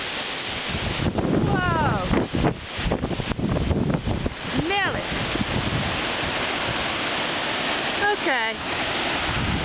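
Strong hurricane wind gusts from Hurricane Isaac roar steadily into the microphone outdoors, with buffeting rumble throughout as a person exclaims and talks over it.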